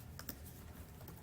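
Keys on a detached computer keyboard click in a short burst of a few quick, soft taps, quiet and close, with no voices.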